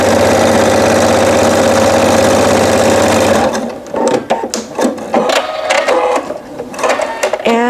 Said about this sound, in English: I'm just going to stitch right down the center of these squares